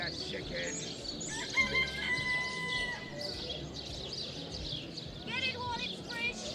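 Chickens cluck and a rooster crows in a fantasy role-playing game market scene, steady mid-level fowl calls over background ambience with a few sustained crowing tones.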